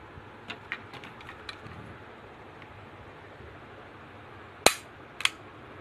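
A blowback air pistol firing with an empty gas magazine gives two sharp, weak pops close by, after faint mechanical clicks from handling, against a quiet background.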